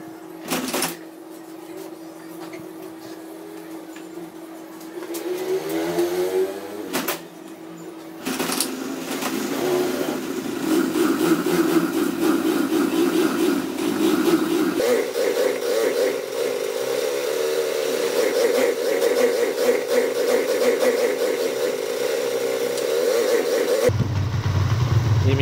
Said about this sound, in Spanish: Vamos a tratar de prender la moto como sea para ver cuánto le está mandando.